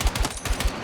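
NVO assault rifle in Battlefield 6, tap fired: five evenly spaced, punchy shots about a fifth of a second apart, loud and close with no talk.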